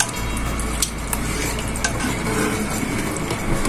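Beaten eggs pour slowly into a pot of simmering chicken corn soup, giving a steady bubbling, stirring hiss with a few soft clinks of a utensil against the pot, close and continuous.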